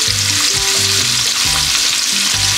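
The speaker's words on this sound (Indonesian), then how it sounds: "aku akan tumis dulu petai tu" Continuous loud sizzling of stink beans (petai) frying in a hot pan, a steady crackling hiss with occasional low clunks of stirring.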